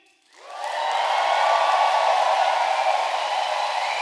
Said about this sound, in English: Can I have a big cheer and movement from all our friends and families joining us?